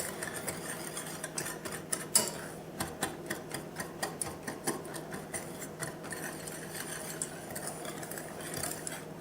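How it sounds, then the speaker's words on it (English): A whisk works a hot fudge mixture in a pot on the stove, giving rhythmic metallic ticks and scrapes at a steady, quick pace. The strokes are fairly soft and close, with no talking. "now that we got that whisked together pretty good"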